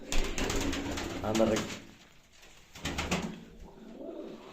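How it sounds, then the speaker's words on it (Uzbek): Domestic pigeons coo in short murmuring bursts close by, mixed with someone speaking briefly. "Mana bugun parrandalarda endi bu kaptarlarni ham bir qo'yib qo'yay."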